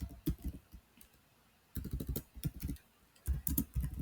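Keys on a computer keyboard are typed up close in three quick bursts of clicky taps, separated by short pauses, with no talking.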